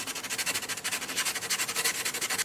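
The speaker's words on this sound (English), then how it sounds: "It's just a little bit of sanding." Steady rhythmic sanding on the top of a 1927 Harmony Lindbergh guitar, a close, dry scratchy rasp that repeats in even back-and-forth strokes with no voices.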